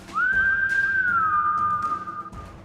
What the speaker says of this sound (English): I whistle at the axe.